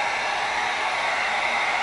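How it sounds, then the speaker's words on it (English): A heat gun blows steadily while heating EVA foam for a prop ray gun barrel, producing an even, close, continuous airy roar with no breaks. "So we're going to get our heat gun going"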